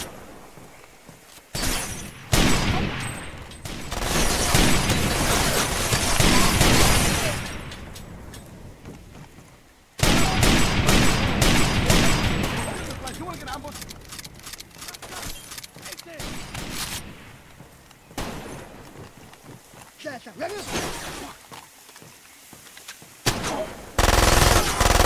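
Gunfire in the video game Far Cry 2, including shotgun blasts, comes in dense loud bursts and rapid volleys with brief pauses, mixed with game sound effects.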